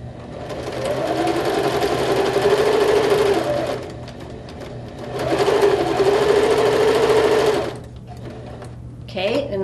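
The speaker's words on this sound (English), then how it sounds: "Then we're going to take it over to the sewing machine, and we are going to sew down each side" A sewing machine stitches down the side of fabric in two long continuous runs separated by a short pause, loud and close, with a steady whirring hum and a brief burst of other noise at the end.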